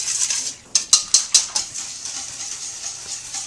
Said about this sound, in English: You're just going to whisk it up so that it's fully incorporated with the milk